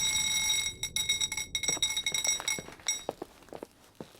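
In The Suicide of Rachel Foster, a fire alarm rings as a steady high electronic tone through an old hotel, cut off abruptly a few times before stopping entirely. Sharp clicks and clatter follow.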